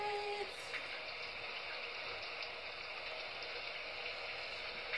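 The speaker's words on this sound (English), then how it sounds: "this literally plays the sound of the rain" A smart alarm clock plays a rain sound, a steady, even hiss of falling water that runs continuously at moderate level with no talking over it.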